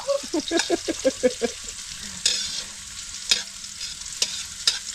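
An egg frying in cooking oil in a pan, a steady hiss with crackling, overlaid by several stirring or scraping knocks early on and a few sharp clicks later.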